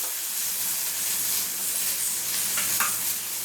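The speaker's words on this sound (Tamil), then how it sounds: "கொஞ்சம் பெரிய வெங்காயம் சேர்த்துக்கிறோம். இதை நல்லா வதக்கிக்கலாம்." Sliced big onions, added after small onions, sauté in a pan for a Kerala-style Malabar chicken fry, giving a steady close sizzling hiss with a couple of light stirring scrapes near the end.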